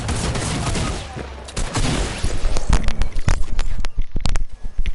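Rapid bursts of gunfire in the video game Fortnite, with dense crackling volleys and sharp single shots coming close and loud over the final few seconds.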